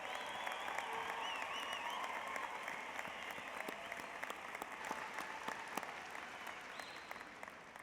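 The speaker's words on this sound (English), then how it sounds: "Everyone, a round of applause for the 2017 graduates." Large crowd applauding graduates at a spring university commencement ceremony, a broad, sustained roar of clapping with scattered cheers and whistles, heard from a distance across a big hall.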